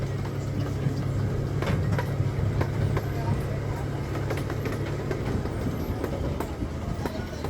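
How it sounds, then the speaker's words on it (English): The Compounce Railroad, a small amusement park train at Lake Compounce in Bristol, Connecticut, rumbles along steadily from on board, with a low engine drone, clattering wheels and occasional clicks and creaks under faint background voices. "this is the Compounce Railroad over at Lake Compounce"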